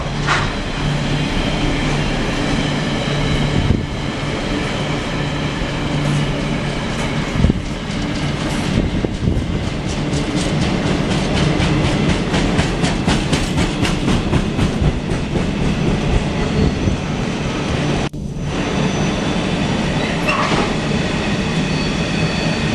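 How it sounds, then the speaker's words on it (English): Several freight trains pass through Rugby station together, a continuous loud rumble of wagons with clattering wheels and occasional squeal, steady throughout with brief dips. "4 freights in Rugby all at the same time"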